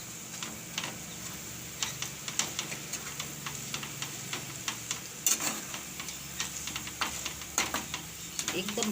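Moong flour roasting in a pan for ladoo, with a low continuous sizzle broken by repeated sharp ticking scrapes of a spoon stirring against the pan, close and fairly even in rhythm.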